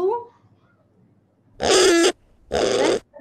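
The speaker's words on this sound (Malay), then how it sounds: "lembu" Cow sound effect from GarageBand, heard as two loud, breathy lowing bursts about half a second long with a short gap between them, after a brief voice at the start.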